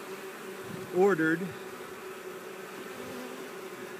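A few bees from a honeybee swarm buzz in the air during an August swarm catch, a faint steady hum with one brief louder buzz passing close by, over quiet background and a low voice.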